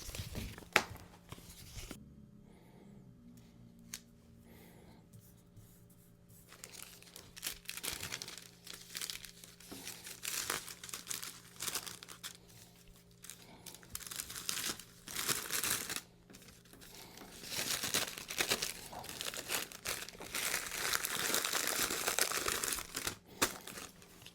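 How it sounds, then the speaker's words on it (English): Crackly crinkling of 9x6 cellophane bags with adhesive strips being handled, intermittent at first then growing louder and denser, close up with soft rustles in between. "I have these 9x6 cellophane bags with the adhesive strip here."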